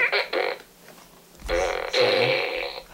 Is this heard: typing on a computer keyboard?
no